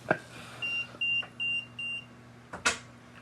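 Four evenly spaced electronic beeps ring out in a steady rhythm, with a couple of sharp clicks and knocks before and after.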